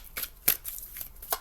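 Tarot cards riffled and drawn from a deck, giving a few short papery bursts of shuffling, the loudest near the middle, fairly close and alone with no talk.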